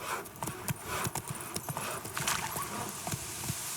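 Horse hooves clip-clop at a steady walking pace in The Witcher 3 video game, close and clear over a soft background ambience.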